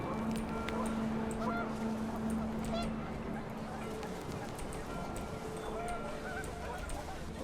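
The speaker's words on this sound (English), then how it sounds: "The wind picked up, and panicked geese appeared and quickly went." Panicked geese honk in a windswept scene from the video game What Remains of Edith Finch, a cluster of calls rising over steady gusting wind, with a low sustained tone underneath.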